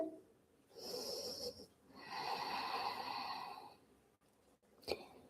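Someone resting in child pose after a mobility workout breathes heavily, with two long audible breaths, a shorter intake and a sharp snort-like exhale near the end, close and fairly quiet.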